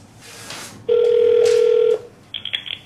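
A telephone line sounds while a call is dialed: a single long steady electronic tone lasting about a second, then short bursts of higher beeps, loud and close.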